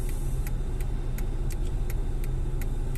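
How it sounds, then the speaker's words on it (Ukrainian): Bus rumbling past on a road, a loud low engine drone close by with a regular ticking rattle repeating over the short stretch. "От наш автобус їде."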